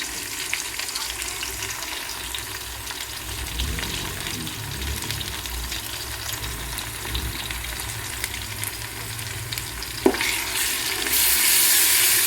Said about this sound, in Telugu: పచ్చివాసన పోయేంత వరకు వేయించుకోవాలండి.